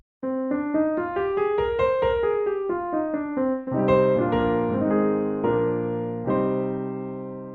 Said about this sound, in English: Then we have the natural minor scale, which we know sounds like this